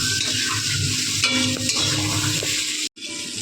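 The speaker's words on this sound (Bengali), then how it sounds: "এবার দিয়ে দিলাম লতি। এটা একদম কম আঁচে আস্তে আস্তে হবে।" Taro stolons (lati) with turmeric being stirred in a pan of oil over low heat: a soft, continuous sizzle with scraping stirring strokes, plus a brief sharp break near the end.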